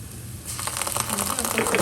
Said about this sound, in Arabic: بضيف الحين معجون الطماطم